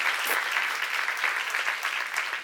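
A church congregation at a seminar applauds, a brief burst of steady, fairly close clapping from many hands, alone without talk.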